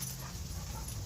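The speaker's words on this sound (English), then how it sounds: "You hear my dog barking in the background" Pet dog whimpering and yipping faintly in the background indoors, brief soft canine sounds beneath a low steady room hum.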